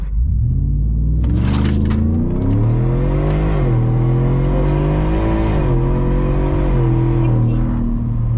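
A supercharged Ford F150 truck accelerates hard on a timed run, its loud, close engine climbing steadily in pitch through the gears with a deep rumble and supercharger whine, heard from inside the cab.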